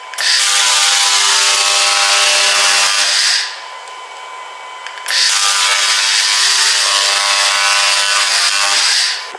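A loud, harsh, buzzing hiss of a laser cleaner removing rust from a surface in a car workshop, cutting out for about a second before resuming just as intensely.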